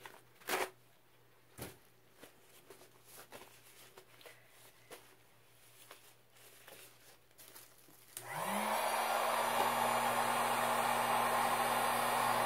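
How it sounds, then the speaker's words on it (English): Heat gun switched on over an acrylic pour painting, a steady loud blowing whine with a rising motor tone that starts after some quiet handling noises and continues to the end. "I think I will hit it with the heat gun"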